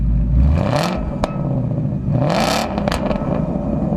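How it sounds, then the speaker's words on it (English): A supercharged 2017 Ford Mustang with a loud catback exhaust revs hard twice, each burst rising to a raspy roar and dropping back to a rumbling idle, close by. "Now this one has got the louder of the catback exhaust options on it, and I find it is loud."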